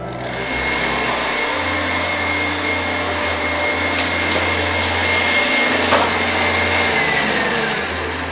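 An electric mixer beating butter with sugar for a batch of kourabiedes, a steady, loud motor whir running unbroken from start to finish with no talk.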